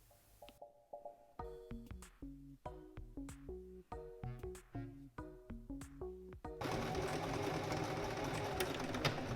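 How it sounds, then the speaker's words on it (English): A sewing machine stitches an elastic band onto a trouser waistband in quick rhythmic bursts of needle strokes, close and clear, followed by a louder steady whir. "I'm going to pin the sides of my elastic band to the waistband so I can sew it without it moving"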